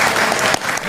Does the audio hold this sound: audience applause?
yes